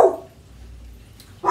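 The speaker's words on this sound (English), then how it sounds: "Dog started barking." A dog barks at a delivery at a home, one loud bark at the start and another at the end, with a quiet gap between.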